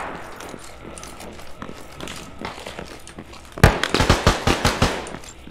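Rapid bursts of video game gunfire erupt suddenly as enemy contact closes in, a loud rattling series of shots after a quieter stretch of ambient game noise.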